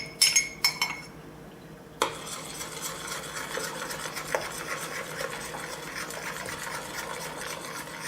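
Metal spoon stirring and scraping thick tomato purée into a pot of bourbon and Coke glaze, with a few clinks at the start, then steady rubbing and stirring throughout.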